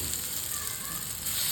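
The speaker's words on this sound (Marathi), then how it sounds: "आपण जो खरडा केला होता तो आता आपल्याला तेलात हलका भाजायचा आहे।" Thecha being roasted lightly in oil in a kadhai, a loud, close, continuous sizzle with a bright crackling hiss throughout.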